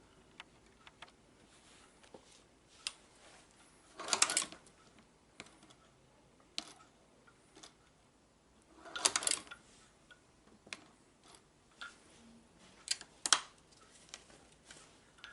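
Shoe patcher sewing machine stitching Vans sneakers, a quiet run of faint, irregular ticks and clicks with a few louder bursts of rapid mechanical clatter, close and without talk.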